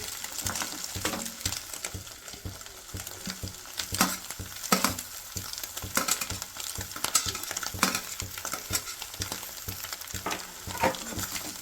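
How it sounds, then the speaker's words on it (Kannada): Sliced onions fry in a pan for egg rice, a steady close sizzle with frequent stirring scrapes and clicks of a spoon against the pan throughout. "ಇವಾಗ ನಾನಿವಾಗ ಇದು ಈರುಳ್ಳಿ ಆ್ಯಡ್ ಮಾಡ್ಕೊತಾ ಇದ್ದೀನಿ"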